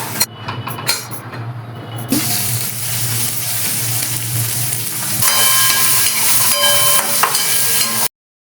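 Peas roasting in a hot pan sizzle and hiss steadily and close, with a few clinks of stirring near the start. The sizzle grows brighter in the second half.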